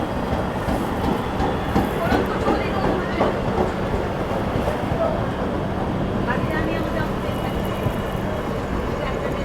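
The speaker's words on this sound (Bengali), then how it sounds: "আমাদের আগে চলে যাচ্ছে লোকাল ট্রেন" A Mumbai local train passes alongside, a continuous rumbling clatter with faint rhythmic wheel clicks, heard close with people talking over it.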